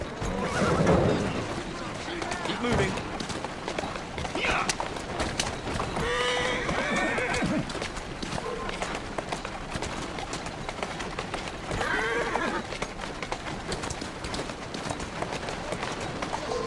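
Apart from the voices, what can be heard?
horse neighing and hooves, Assassin's Creed Syndicate video game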